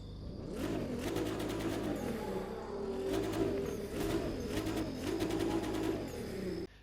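A Nissan 370Z Dominion Edition in the racing game The Crew 2 revs and accelerates, its engine note climbing and dropping repeatedly in a steady mid-pitched drone with whining gear tones, fairly quiet and with no talking.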